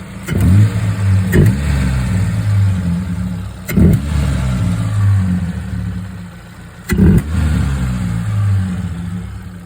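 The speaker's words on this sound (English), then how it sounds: "So give it a little bit of revs." A Mitsubishi Mirage car engine idles with a deep rumble and is revved several times, each rev a short loud surge before settling back, heard up close.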